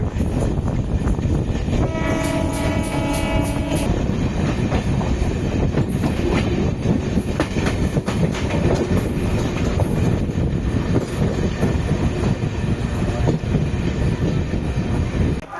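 A MEMU express train rumbles steadily along the rails near Dindigul Junction, India, loud and close, with a blaring horn early on and wheel clatter and squeal throughout.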